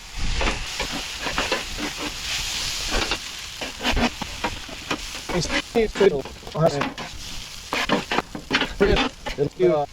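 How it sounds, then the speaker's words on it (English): Food being stirred in a pan with sesame seed oil, a steady sizzle under repeated scraping and clattering strokes of the utensil, close and fairly loud, with brief bits of talk. "And a little bit more sesame seed oil. And just stir it."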